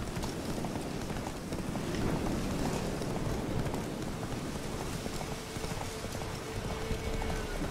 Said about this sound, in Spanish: Calma un caballo salvaje con la señal de Axe y monta sobre él.